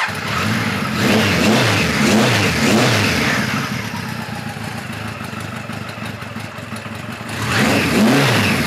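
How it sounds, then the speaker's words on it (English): A restored 1973 Kawasaki Z1 900 motorcycle with a four-into-four exhaust revs loudly and close, dropping to a steady rumbling idle in the middle before revving up again at the end. "it fires right up and the idle actually comes up where it's supposed to be"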